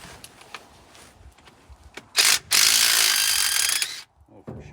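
A mid-size DeWalt impact wrench works at a bolt on a 1947 two-ton Ford truck, giving two loud close bursts of hammering rattle, a short one followed by a longer run of about a second and a half, with some handling clatter around them.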